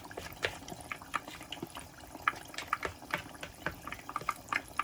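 Plantain fritter batter fries in hot oil with a constant crackling sizzle and scattered pops, close but fairly quiet, with no talk.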